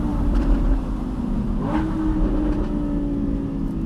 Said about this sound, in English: this fantastic naturally aspirated V10